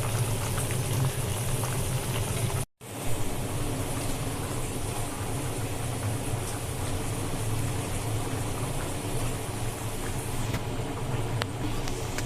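Water boils in a pot with fish for a curry, a continuous low bubbling simmer close by, broken by a brief moment of silence early on, with no talk.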